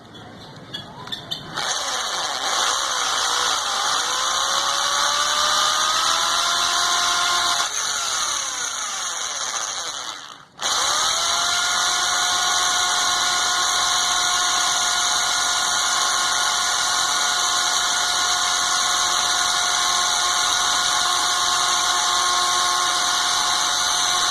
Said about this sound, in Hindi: इसको ये सुराख जो है मैं ड्रिल मशीन से कर देता हूँ